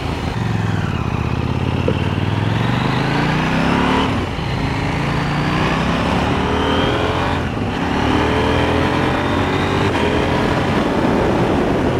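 A KTM 890 Duke R motorcycle engine revs steadily and climbs through the gears, loud and close, its pitch rising and falling over several shifts with no voices.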